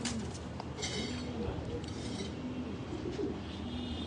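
A pigeon in an outdoor loft area gives soft, low cooing calls that repeat faintly at intervals against quiet background noise, with light clinks and rustles nearby.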